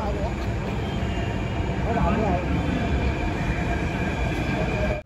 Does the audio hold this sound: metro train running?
yes